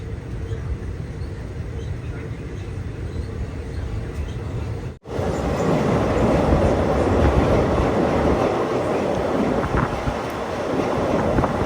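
The Mangaluru to MGR Chennai Central Mail train running on rails, a steady loud rumble and rattle of wheels with wind rush, growing louder and fuller after a brief dropout midway.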